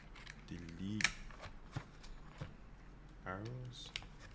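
Keycaps being pressed onto a Frog TKL keyboard fitted with Alps switches, heard as a few sharp plastic clicks and snaps spaced irregularly, with people talking around them.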